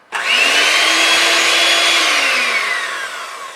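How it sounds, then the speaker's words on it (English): A handheld electric mixer whirs loudly and close as it blends vegan, oil-free okara cake batter for a Napoleon cake, rising to a steady high whine for about three seconds before easing slightly. "So I've got my handheld mixer. I'm gonna whiz it up for a couple of minutes"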